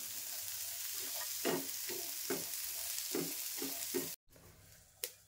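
Onions dry-roasting in a pan without oil for Malvani chicken, a soft, faint crackle broken by a series of regular spatula scrapes and stirs, with a brief pause near the end before one more scrape.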